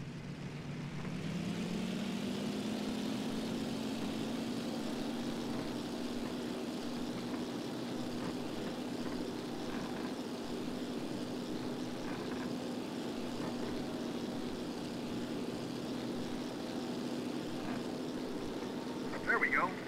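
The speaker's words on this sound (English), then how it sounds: "Give us a flyby of the Ford Island Control Tower." A WWII-era propeller plane in the video game Damage Inc Pacific Squadron flies past the Ford Island control tower, a sustained droning engine tone that rises slightly in pitch early on, then holds steady and moderately loud.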